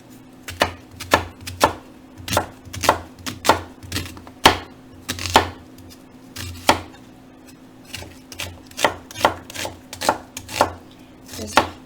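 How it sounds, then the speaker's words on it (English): A knife slices onion into thin julienne strips on a cutting board for a Spanish tortilla, making about twenty crisp, evenly paced chops close to the listener, with a low steady hum underneath. "Just cut it into very thin slices"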